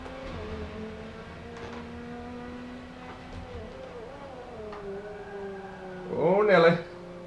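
A race car engine in an Xbox One racing game driven with a Fanatec GT2 steering wheel holds a steady droning tone, then surges into a louder, wavering rev near the end.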